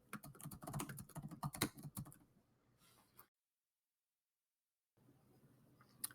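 Quick keystrokes on a computer keyboard as a template name is entered, a dense burst of clicks for about two seconds, then a few sparse taps, a silent gap, and a brief return of faint clatter.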